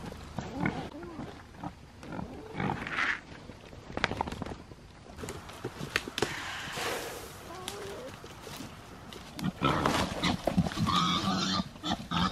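Pigs grunting outdoors in a farm pasture, irregular snorts and grunts at close to middling range, with a louder burst of activity near the end.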